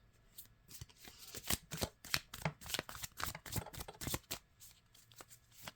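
Mystic Forest Oracle cards shuffled by hand, a steady run of crisp riffling snaps and slides, close and moderately loud, with no one speaking.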